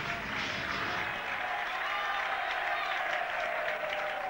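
Big stadium crowd at Odsal applauding and cheering as the Bradford and Wigan rugby league teams come out in 1996, a dense distant roar of clapping that carries on without a break.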